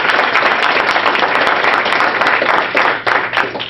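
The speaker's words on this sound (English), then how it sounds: "A big round of applause for the Just Off Broadway Theater Ensemble." A theater audience applauds an ensemble's performance of It's a Wonderful Life, with a dense, steady wash of many hands clapping that continues throughout and thins slightly toward the end.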